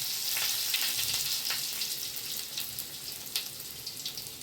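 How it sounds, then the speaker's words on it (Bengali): Nigella seeds and a whole dried chilli sizzling in hot oil in a pan, a steady bright crackling hiss with small pops, close and continuous. "এবার দেখো তেলের মধ্যে দেবো আমি কালো জিরে, একটা গোটা শুকনো লঙ্কা"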